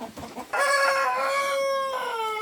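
A free-range village rooster kept above a pond gives one loud, close crow lasting about two seconds, following a few soft clucks, with no voices.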